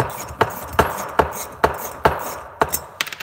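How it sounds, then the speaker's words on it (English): A ratchet being worked on a carburetor stud in a Predator 212 engine head, giving a steady series of sharp, close clicks roughly every half second, ending in a quicker cluster. "Then I'm going to attempt grabbing it with these again while it's actually in the head. Switch my ratchet direction."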